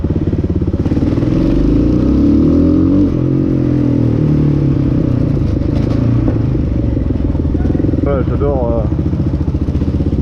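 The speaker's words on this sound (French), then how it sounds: "J'adore le bruit de cette moto." A Kawasaki KLX 650 motorcycle engine idles and rumbles steadily throughout, loud and close, with a brief rise in revs partway through.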